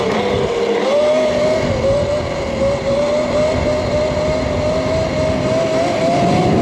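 A Sur-Ron electric dirt bike with a Torp TC500 upgrade ridden at about 30 mph, a steady rising electric motor whine over loud wind and tyre rumble, continuous and close.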